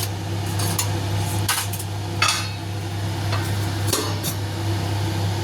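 Metal clinks and clatters of a lid being handled over a pot of simmering vegetable curry in a home kitchen, a few sharp knocks over a steady electrical hum, with no talking.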